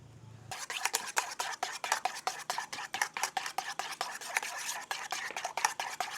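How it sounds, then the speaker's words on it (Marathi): A batter of flour, milk, butter and baking powder is whisked by hand in a bowl, with quick, steady, evenly spaced strokes clicking and scraping close up and no talking. "याला ॲक्च्युली मशीन लागते, पण मशीन नाही, आपण असंच फेटूया."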